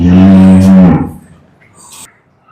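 A young calf on a farm with cows for sale gives one loud, close, deep moo lasting about a second, followed by quiet.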